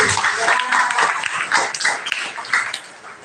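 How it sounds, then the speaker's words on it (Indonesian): Applause from an audience at a Catholic confirmation retreat for teenagers, a short burst of scattered hand claps with some voices mixed in, moderately close, fading slightly by the end. "Tepuk tangan sekali lagi"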